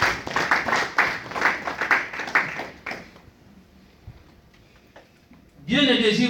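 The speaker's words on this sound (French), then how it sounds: "Acclamons la parole de Dieu" Church congregation clapping rhythmically in unison for about three seconds, then fading to near silence before a voice begins speaking.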